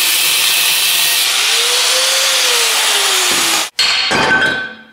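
Rear axle tube being cut with a power saw, a loud steady grinding whine that runs unbroken, stops abruptly for a moment, then resumes briefly before fading out.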